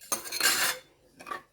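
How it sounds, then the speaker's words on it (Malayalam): A metal spoon stirs chicken biryani curry in a pot, scraping and clinking in two short bursts with a pause between, close and fairly loud, no voices. "നന്നായിട്ടൊന്ന് ഇളക്കി കൊടുക്കുക."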